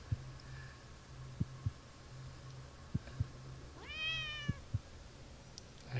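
A cat gives a single clear meow, rising then falling, over a low hum and faint rhythmic thumps.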